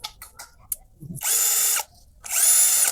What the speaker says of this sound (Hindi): अब हम इसमें ड्रिल करते हैं।